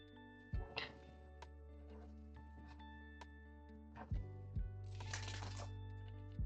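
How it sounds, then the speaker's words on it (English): Tarot cards riffled and shuffled by hand in a few short bursts, with soft papery flicks and a low steady hum underneath, otherwise quiet. "Just shuffling the cards."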